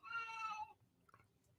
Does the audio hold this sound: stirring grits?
no